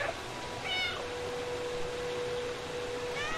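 A cat meowing in the video game Stray, two or three clear, fairly close meows spread across a quiet background with a faint steady hum.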